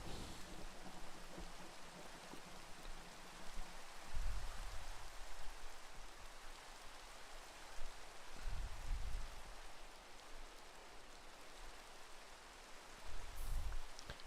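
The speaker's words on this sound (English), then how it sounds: "and it's raining." Rain falling in the video game Minecraft, a soft continuous hiss of rainfall with a few low rumbling swells, faint and steady with no talking.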